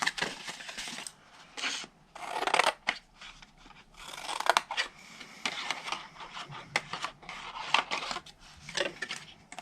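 Scissors snip through scored cardstock while a paper flap box is being made, giving crisp close-up cuts in quick bursts separated by short pauses. No one speaks.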